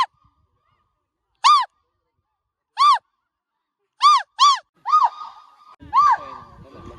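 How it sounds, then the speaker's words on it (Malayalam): Loud, long hooting shouts ring out at a man-made echo point in an old quarry at Gavi, a forest area in Kerala, about six in all, some in quick pairs, ending over rising background noise. "ശരിക്കും ഇത് മനുഷ്യനിർമ്മിതമായ ഒരു എക്കോ പോയിന്റ് ആണ്"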